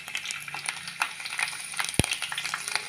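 Onions and garlic frying in a pan give a steady, close sizzle with soft crackles and a sharp utensil knock partway through.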